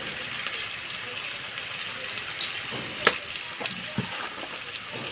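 Spices for a bhola fish curry with potatoes and Kashmiri chili powder fry in a pan while being stirred, giving a continuous close sizzle with scraping taps and a few louder clinks toward the end.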